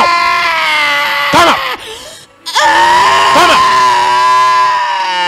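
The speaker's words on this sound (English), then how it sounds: "Scream your way out." A person screams and wails in long, loud, quavering cries during a deliverance prayer session, with a brief gasping break midway before the wailing resumes at full strength.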